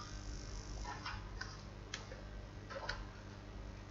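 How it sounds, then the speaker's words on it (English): Soft, irregular key clicks from a computer keyboard, a handful of faint taps spread over a few seconds against a steady low background hum. "I'm typing hatch"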